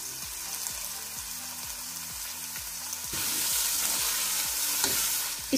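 Shredded boiled chicken stir-fried in a pan with garlic, a continuous sizzle that grows louder partway through, with rhythmic stirring scrapes, close and without talking.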